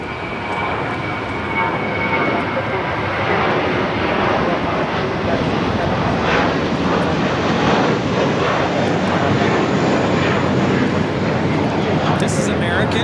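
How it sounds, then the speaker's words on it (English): An American Airlines A321 jet taking off at LAX sends out a loud, sustained engine roar that stays strong the whole time, with a voice talking over it. "This is American 1002 taking off to Dallas, Fort Worth on the A321"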